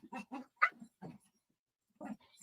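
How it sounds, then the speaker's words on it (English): Dogs fight up close with a quick series of short yelps, whimpers and growly yips, a brief lull, then a couple more sharp cries. "Hold on, the dogs are fighting."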